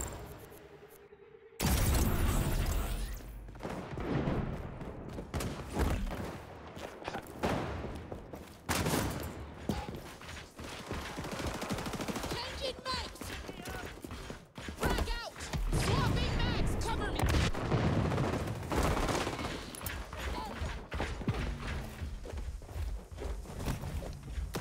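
Bursts of gunfire and heavy impacts in the shooter video game Arena Breakout Infinite, loud and close, with rapid shots and thuds coming in clusters over a busy game soundscape, with a voice talking at times.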